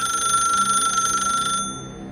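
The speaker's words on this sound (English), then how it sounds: "Then the phone rang a 3rd time." A rotary telephone gives a shrill, mechanical ring, a steady bright bell tone sounding alone and fairly loud before it cuts off sharply near the end.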